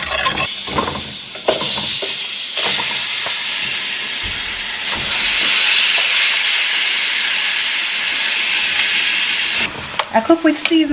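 Food hissing in a little hot extra virgin olive oil in a pot on a stovetop gives a steady, loud broadband sizzle that swells midway, with scattered clinks and stirring knocks and a burst of crackling near the end.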